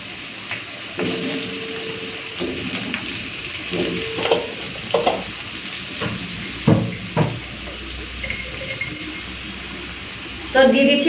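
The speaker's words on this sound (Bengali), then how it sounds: "আগে আলুগুলোকে একটু লালচে করে ভেজে নিচ্ছি" Potatoes fry in a pan with a low sizzle under scattered stirring knocks and scrapes, a louder clatter near the end.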